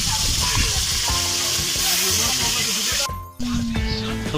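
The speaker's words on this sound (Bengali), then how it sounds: "মাছ ভাজা কাজ শুরু হয়ে গেছে। দাদু মাছ দিয়ে দিচ্ছে করে কড়াইতে।" Fish dropped into hot oil in a kadai sizzles loudly and continuously, a bright frying hiss close to the microphone with a brief dip partway through, while voices and clatter sound faintly beneath it.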